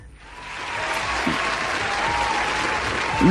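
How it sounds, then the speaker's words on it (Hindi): A crowd breaks into applause, swelling from quiet into a steady, dense clapping that holds strong and even, with a couple of brief voice sounds poking through near the end. "बहुत सारी तालियां हो गई"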